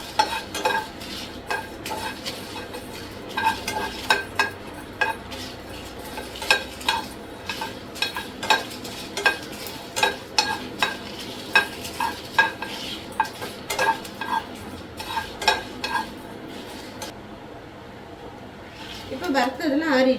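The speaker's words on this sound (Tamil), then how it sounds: "தீயை விடாமல் நல்லா வாசனை வர வரைக்கும் நல்லா வறுத்துக்கோங்க." Cardamom and cloves dry-roasted in a pan, stirred with a spatula in a steady run of scraping and tapping strokes over a soft background sizzle, with a few louder knocks near the end.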